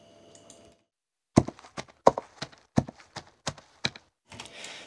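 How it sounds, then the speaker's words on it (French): A sequence of horse hoof clops from a sound-effects library, roughly eight sharp, dry knocks in an uneven walking rhythm, close and isolated against silence, followed by a short hiss. "on écoute nos sons de sabots."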